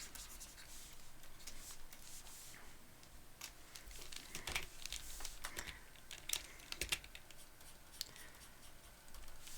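Clicks and taps come from a computer keyboard and mouse as shortcuts are pressed during a digital drawing session, sounding as a faint, close, irregular scatter of quick keystrokes with a few louder taps.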